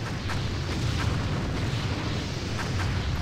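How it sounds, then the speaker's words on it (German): Flak anti-aircraft guns firing in the Empire Earth strategy game, a continuous rumbling barrage of muffled booms and bursts layered over a dense noisy battle backdrop. "Eine Flak kann dahin schießen."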